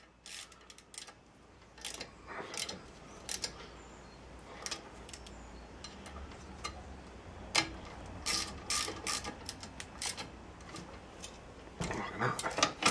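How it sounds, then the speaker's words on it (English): Grub screws being tightened on a Series Slickshift gear linkage: quiet, irregular metallic clicks and ratcheting scrapes come close up, in short bursts with brief pauses, and there is no talking. "I'm just going to tighten these grub screws up."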